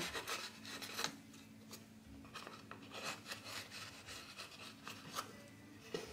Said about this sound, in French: je vais continuer à ancrer les bords de la boîte